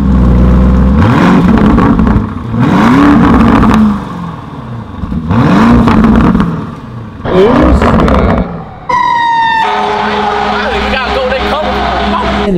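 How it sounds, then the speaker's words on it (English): An SUV engine revs up hard several times in separate bursts, each rising and falling, then settles into a steady loud idle with a whine. "I'm gonna give it a bunch of revs. This has to be one of the loudest stock SUVs I've ever heard."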